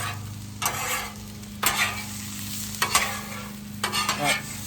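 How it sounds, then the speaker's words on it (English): Pineapple and bacon being stirred into fried rice in a hot pan, four scraping stirs at a steady pace over a constant sizzle, with no talking. "I'm gonna do is mix in the pineapple and the bacon"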